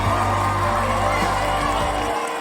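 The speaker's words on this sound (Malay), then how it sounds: "Berikan mereka tepukan gemuruh." Loud, continuous crowd applause and cheering from a large audience at a staged show, a dense wash of clapping and shouts sustained at steady volume before cutting off abruptly near the end.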